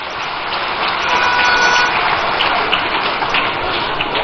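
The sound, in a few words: applause for the MPs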